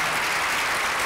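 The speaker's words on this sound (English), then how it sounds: "a good round of applause for him" Dense, loud applause from a conference audience greeting an invited speaker, a steady wash of many clapping hands with no pauses.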